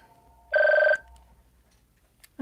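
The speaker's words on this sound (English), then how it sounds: "I'm not going to answer the phone. I'm going to unplug my phone." A single brief electronic telephone ring, a clear tonal burst under half a second long that stands out loud against a quiet background.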